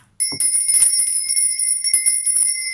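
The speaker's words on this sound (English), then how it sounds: "Let me ring my lovely lady bell." A small hand bell is rung to cleanse the air, giving a bright, sustained metallic ring with rapid jingling strikes that carry on for a few seconds, close and alone.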